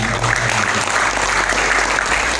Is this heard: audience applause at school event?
yes